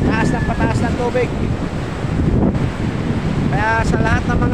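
Loud ocean surf with strong wind buffeting the microphone, waves rushing continuously while a person talks over it.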